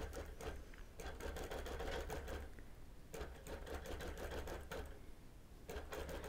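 Longarm quilting machine stitching a quilt binding, a steady mechanical rattle of rapid needle strokes with brief pauses and restarts, close and fairly quiet, with no talk.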